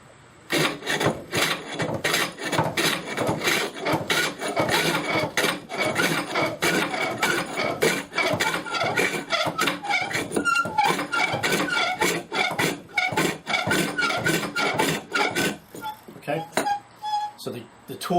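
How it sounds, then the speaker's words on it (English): Lathe tool cutting into spinning wood, giving rapid, rhythmic scraping chatter with pulsing bursts that ease off near the end, while a person talks over it. "when I have to put the tool to the wood"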